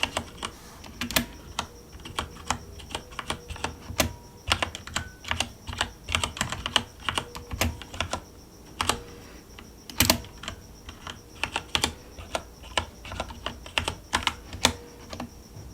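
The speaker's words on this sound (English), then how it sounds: "Type that in." Slow, uneven typing on a computer keyboard in a quiet room, individual key clicks and heavier thumps spaced irregularly, close and crisp with no voices.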